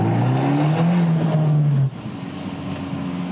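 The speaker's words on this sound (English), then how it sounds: "Have you heard that exhaust? That's a thing called a Record Monza." Abarth 124 Spider engine through its standard Record Monza exhaust: a loud, close, raspy drone that rises and holds, then cuts off sharply into a lower idle-like rumble.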